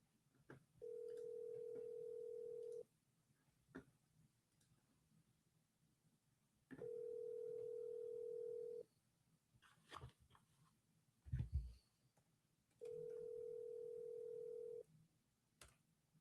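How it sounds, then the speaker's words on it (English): A telephone dial tone sounds three times in steady two-second bursts on a sales call, with faint clicks and a few short knocks between the tones, fairly quiet overall. "I'm dialing the first one."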